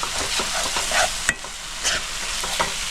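Chicken gizzards being stirred with ground cumin, coriander and Kashmiri chilli powder in a hot pan, a steady scraping and shuffling over a low sizzle with a few sharper spoon knocks, close and alone.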